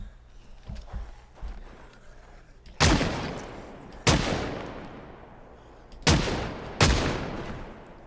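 Gunfire in the Project Zomboid survival game in Louisville: four loud, sharp shots ring out alone, two spaced apart, then a closer pair, each decaying into a brief echoing tail over quiet ambience.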